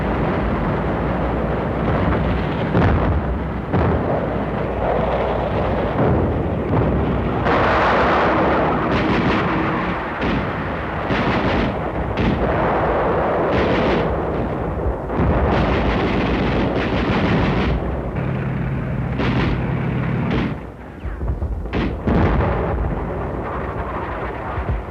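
Naval barrage bombardment off Saipan in 1944, heavy booming explosions and rumbling blasts in dense, continuous succession, loud and unrelenting with no speech.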